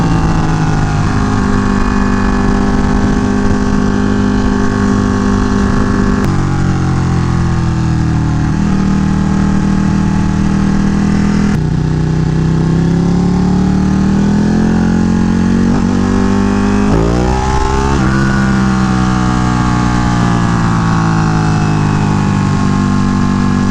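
A Ducati Panigale motorcycle engine idles loudly close by, then revs up and down several times, its pitch rising and falling in strong sweeps over a steady rumble, with no speech.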